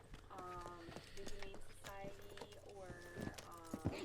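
Horse hooves clip-clop at a steady walking rhythm through a frontier town in a video game, with people talking over the hoofbeats throughout.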